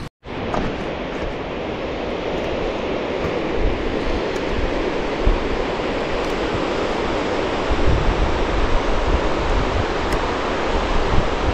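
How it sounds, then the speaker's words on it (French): Steady, dense roar of a mountain waterfall near Monte Viso, loud and continuous throughout with no pauses or voices. "Belle cascade."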